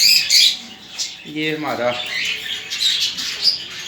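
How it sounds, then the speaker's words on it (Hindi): Pigeons at grain make brief squawks and chirps, with a clear pitched call near the middle, while a person speaks nearby. "कबूतर जो है ना, वो दाना खाने के लिए जो गए हैं"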